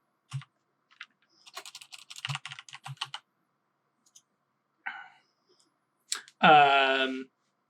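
Fingers tap out short bursts of clicky keystrokes on a computer keyboard, close and crisp, with pauses between the runs. A voice speaks briefly at the end.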